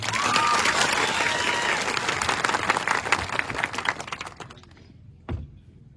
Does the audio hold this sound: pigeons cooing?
no